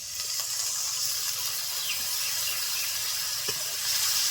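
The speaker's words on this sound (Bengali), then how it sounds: "আর এখন দিয়ে দিচ্ছি সামান্য পরিমাণে জল।" A small splash of water hits a hot pan of okra curry, producing a steady hissing sizzle and bubbling that holds fairly constant and close throughout.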